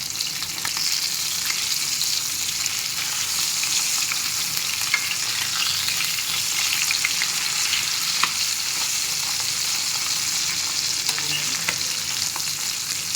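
Kavala fish frying in a pan of oil, a dense continuous sizzle with soft crackles holding steady and close throughout, no voices.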